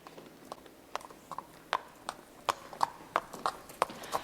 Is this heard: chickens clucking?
no